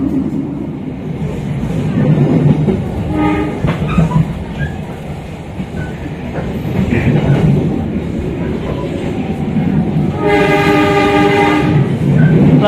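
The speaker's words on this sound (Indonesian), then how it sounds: "Papasan sama kereta api Argo Parahyangan Gajayana." An Argo Parahyangan passenger train passes close by, its steady rumble and clattering wheels rising and falling, with a loud sustained horn blast near the end.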